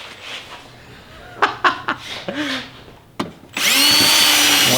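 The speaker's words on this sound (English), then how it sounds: "Apparently, everybody here likes drilling." A power drill bores a hole through a car body for wiring during a flamethrower install, first with short bursts mixed with laughter and voices, then one loud continuous whine running to the end.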